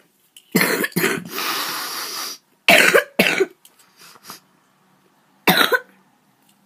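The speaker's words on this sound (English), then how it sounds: "Sorry I'm coughing." Several harsh coughs close up, coming in bursts: a pair, a long raspy one, another pair, then a final single cough after a pause.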